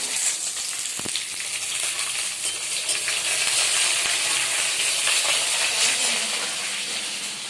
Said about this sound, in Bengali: রান্না হচ্ছে ঢেঁড়সের তরকারি